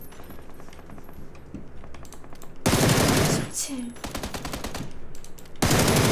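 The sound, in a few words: gunfire in a video game training ground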